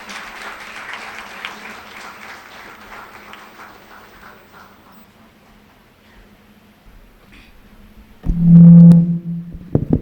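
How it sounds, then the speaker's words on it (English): Audience applause fills a hall at an architecture college convocation, moderate at first and thinning out over several seconds to near quiet, before a sudden loud low hum bursts in near the end. "One round of applause for everybody."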